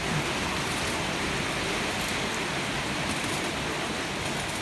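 Heavy rain pours down steadily during rice harvest season, a dense, constant broadband hiss with no breaks, filling the whole scene without any talk.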